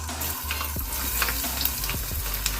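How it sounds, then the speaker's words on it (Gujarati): Chopped garlic fries in a ghee tempering with mustard seeds, cumin and asafoetida for dal khichdi, hissing steadily up close with bubbly crackles and occasional scrapes of a stirring spoon. "અને કટ કરેલા લસણ છે એ નાખી દઈશું અંદર."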